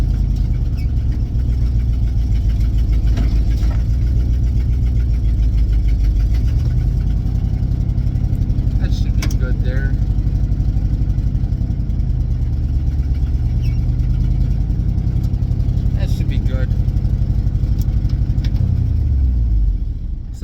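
A 1965 International Paystar truck's engine runs close by for about twenty seconds while the truck is repositioned, a deep steady rumble with a couple of rises in revs and brief mechanical squeaks before it cuts off.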